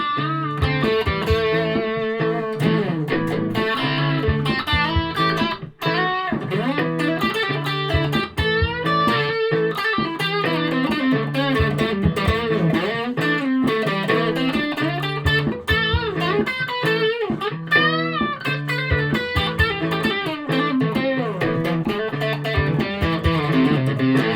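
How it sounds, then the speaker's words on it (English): Electric guitar played through the bridge humbucker pickup with mild distortion on an X-wing styled Telecaster-type guitar, loud and continuous chords and riffs with no talking. "Humbucker with a bit of distortion."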